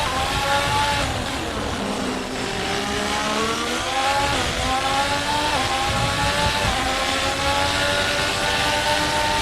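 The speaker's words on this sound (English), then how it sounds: "The sound of the engine roaring while shifting gears matches the visuals perfectly" AI-generated race car engine roars loudly and continuously, its pitch climbing and dropping in stepped sweeps as gears shift, with no talk over it.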